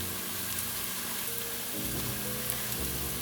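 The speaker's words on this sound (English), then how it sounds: "add my other seasonings into my sauteing onion" Onion sautéing in a pan with Italian seasoning stirred in, giving a soft, steady sizzle and crackle with occasional stirring scrapes, quiet and close, with no talking.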